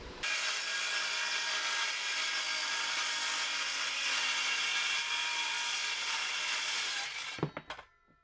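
A power saw cuts through 3/4 inch plywood in one long, loud, steady pass lasting about seven seconds, then winds down with a few clacks, close by and without talk.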